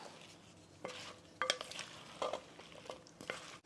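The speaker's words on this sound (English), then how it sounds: "And stir this together." A spoon stirs cooked skillet apples with nuts in a small bowl, making soft, quiet scrapes and light clicks in a short, irregular sequence.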